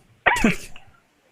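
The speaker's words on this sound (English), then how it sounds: "Is that a repeating cough?" A single harsh cough, close and loud, with a short throaty tail afterward.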